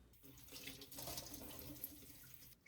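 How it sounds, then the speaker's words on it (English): Cold tap water runs into a kitchen sink while spinach is rinsed for bibimbap, a soft, steady splashing stream lasting a few seconds, quiet and without talk. "Drain the spinach, rinse it under cold water, then gently squeeze out the excess water."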